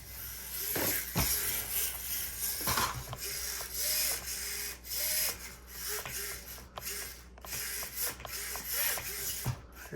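An SCX24 mini RC monster truck with a Furitek Godzilla motor on 3S power and a Rocketman transmission runs with mechanical whirring and clicking, rising and falling motor whines in bursts, close by.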